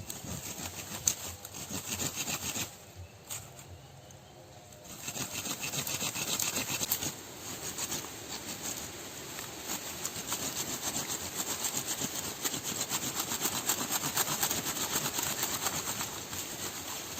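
A hand saw cuts through a wood branch collected as bonsai material, a steady rasping back-and-forth rhythm close by, pausing briefly midway before resuming and continuing to the end.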